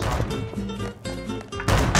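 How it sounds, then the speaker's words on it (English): Gunfire in the video game Secret Neighbor crackles in dense, continuous bursts with booming impacts, loud and busy, swelling into a heavier blast near the end. "I hear what sound like gunshots"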